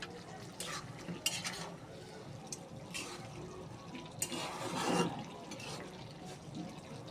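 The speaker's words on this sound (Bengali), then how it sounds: "এখন আবার আমি তলি থেকে নেড়ে দেবে" Potato and dried kachki fish curry being stirred in a pot as the gravy thickens, with soft scraping and clinking of a spoon against the pot under faint sizzling, close and fairly quiet.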